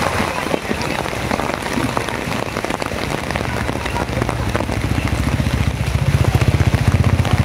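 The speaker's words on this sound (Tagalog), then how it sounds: "It's been raining in Prim" Rain falls steadily with dense patter of drops striking a nearby surface, loud and close, and a low rumble building toward the end.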